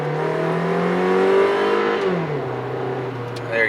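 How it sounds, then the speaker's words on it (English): A Hyundai car with a slight exhaust leak accelerates hard from inside the cabin, engine drone climbing steadily in pitch, then dropping as it shifts and pulls again, with a voice talking over it. "There you go, hammer down, plenty of acceleration."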